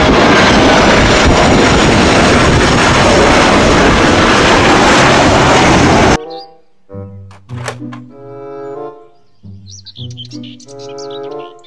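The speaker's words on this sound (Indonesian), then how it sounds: "Pesawat terbang." A toy airplane gives a steady, loud jet-like roar for about six seconds, then stops abruptly as bouncy music begins.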